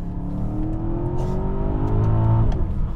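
An Aston Martin DBX engine revs in Sport Plus mode, a loud, close growl that rises in pitch across a few seconds, with no talking.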